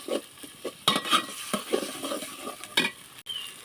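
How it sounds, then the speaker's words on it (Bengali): Ginger and garlic paste fries in a pan, soft sizzling broken by stirring scrapes and light utensil knocks, quiet and close with uneven bursts of movement. "আদা রসুনটা আমি একটু ভালোভাবে ভেজে নেব যাতে আদা রসুনের গন্ধটা না থাকে"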